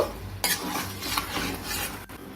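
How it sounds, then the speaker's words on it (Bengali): Spice paste for Kashmiri chicken being stirred and sautéed in a pan, with a steady scraping rasp of a spoon against the pan, close and moderately loud, and one sharper knock near the start. "আস্তে আস্তে কষিয়ে নেব খুব ভালো করে কষিয়ে নিলাম"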